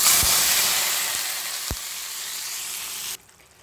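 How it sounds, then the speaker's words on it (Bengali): Hot tempering poured over cooking ash gourd greens with prawns bursts into loud, steady sizzling with a couple of sharp spatters, fading gradually before cutting off abruptly near the end. "এখানে আমি ফোড়নটা ঢেলে দিচ্ছি"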